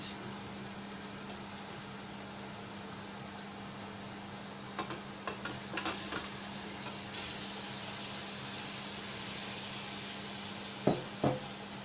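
Beef added to a pan of softened onions and tomatoes for a beef curry sizzles in a steady, moderate hiss. A few clinks and scrapes of stirring stand out against it.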